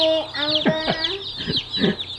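A chicken clucks close by in a short series of abrupt, rising calls, with softer clucks and a faint low hum underneath.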